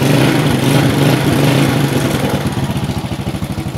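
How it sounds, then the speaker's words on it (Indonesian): A Yamaha Vega ZR motorcycle's engine runs close by after ignition repairs, a rough clattering idle that settles into a distinct pulsing, throbbing beat toward the end. "alhamdulillah motor sudah hidup"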